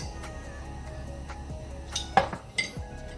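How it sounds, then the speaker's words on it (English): Three eggs are lightly whisked in a bowl in a kitchen, with soft scraping and a few sharp clinks of utensil against the bowl, quiet and close. "So I have 3 eggs here, just breaking them up a little bit."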